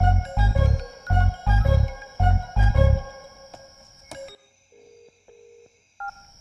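A phone's electronic ringtone plays in repeated bursts, loud and close, then stops and a few softer beeps follow.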